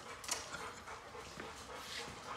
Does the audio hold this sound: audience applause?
no